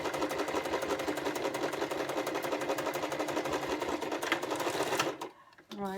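A sewing machine runs a continuous fast stitching burst along the edge seam of a pleated fabric face mask, close and steady for about five seconds before stopping, with a voice speaking briefly at the end.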